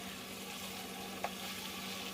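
Chicken chaap pieces fry in a pan, giving a soft, continuous low sizzle with a faint tap near the middle; no one speaks.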